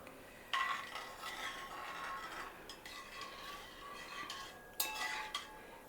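A utensil stirs milk powder into cold milk in a pot, with soft swishing and a couple of sharper clinks against the vessel, quiet and close, no talking.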